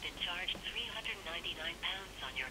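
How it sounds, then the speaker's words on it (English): A telephone rings quietly in a repeating warbling pattern of short electronic bursts, fairly soft and steady, with faint background noise beneath. "the phone!"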